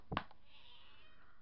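A cat lets out a single short meow that ends in a faint, drawn-out tail, heard close against a quiet indoor background.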